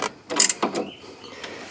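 A few short metallic clicks and scrapes sound up close as a bolt is tightened into an aluminum bracket during pulley work on a 2005 Chevrolet Suburban, then trail off into quiet.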